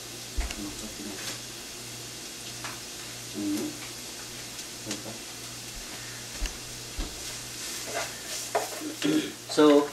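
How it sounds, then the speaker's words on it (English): Finely chopped onion sautéing in two or three tablespoons of oil, a steady sizzle broken by frequent scraping stirs and clanks that grow busier toward the end, with a low hum beneath. "So I've been sauteing this onion for about 5 to 10 minutes"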